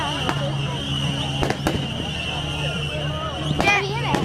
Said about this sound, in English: Imagine a firework. A lot of fireworks.